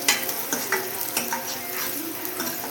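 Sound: onions frying in pan

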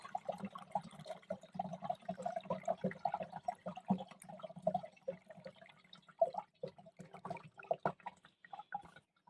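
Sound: pouring water into soap mixture

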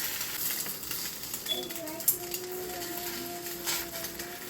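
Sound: egg frying in a pan

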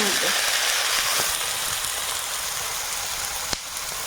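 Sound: crab frying with salt and spices

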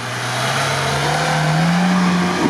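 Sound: Lada Niva off-road car with sport exhaust revving

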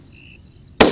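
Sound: handgun gunshot at a Florida alligator

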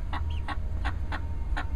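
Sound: chickens clucking in community garden

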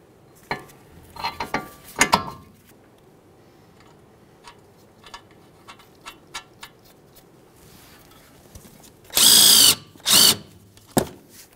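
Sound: power tool tightening tie rod end nut, Ford Fusion

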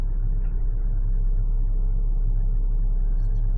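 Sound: Kobelco SK75SR-7 excavator engine idling

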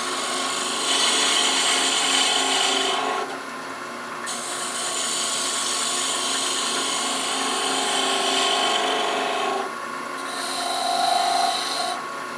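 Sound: wood lathe turning with detail gouge

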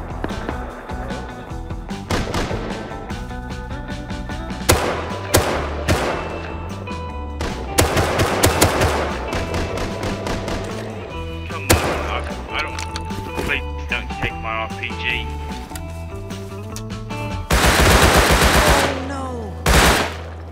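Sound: gunshots in the video game Rust

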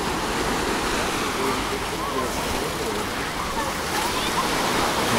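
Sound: waves on a beach in Alanya, Turkey

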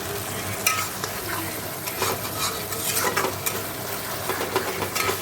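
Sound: whole garam masala spices sizzling in oil for ghugni

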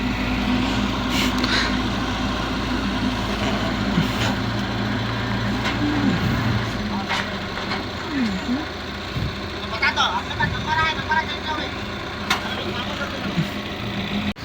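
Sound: trucks being hauled up onto the road

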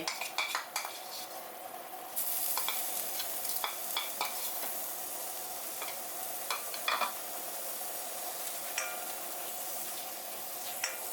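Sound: curry paste stir-fried in coconut cream

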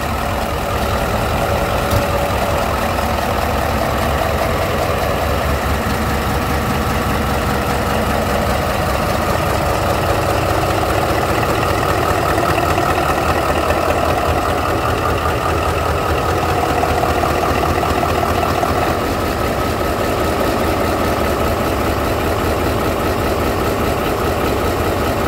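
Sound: BR285 locomotive engine running in engine compartment

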